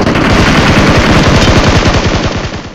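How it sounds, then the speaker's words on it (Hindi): Rapid automatic gunfire from the battle-royale video game BGMI, a loud, sustained stream of close-range shots firing without pause and tapering slightly at the end, with no talk. "जब तुम फायरिंग की आवाज़ें सुनो यार, एकदम नहीं रुक रही है"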